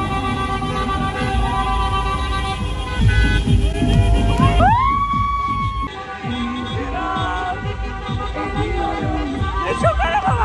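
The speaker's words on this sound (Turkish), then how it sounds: "Ne çok araba varmış lan." Busy street traffic with many cars passes at close range, with engines rumbling, a siren-like rising wail and horn toots over a steady roar, and voices talking in the background.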